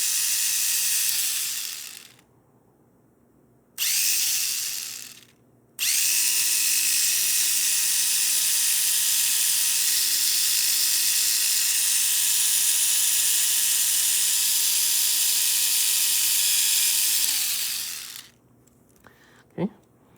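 A small Mini 4WD car's Super II or VZ chassis motor with a 3.7 gear ratio whirs in a high, steady whine, stopping briefly twice before a long continuous run, then cutting off.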